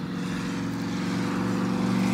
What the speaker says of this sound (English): there's a truck going by that's loud